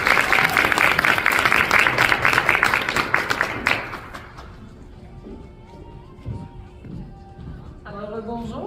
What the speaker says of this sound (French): je vous laisse applaudir Edith Robitaille.